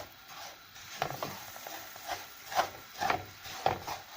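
Kadayif shreds toasting in a pan are stirred with a wooden spoon, giving soft dry scraping and rustling strokes at an irregular pace, close and moderately quiet with no talking.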